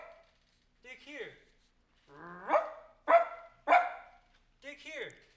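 A voice imitates a dog named Pochi barking at the foot of a huge tree in a Japanese folk tale, giving six or so separate bark-like calls in uneven bursts over several seconds, clear and close, with no other sound between them.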